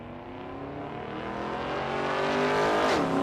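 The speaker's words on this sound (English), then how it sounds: "Festiva's turbocharged, and the thing hops all over the place and does all kinds of crazy stuff" A turbocharged Ford Festiva race car drives past during a race, its engine note rising steadily and loudly as it accelerates, with a brief tire or pitch sweep near the end.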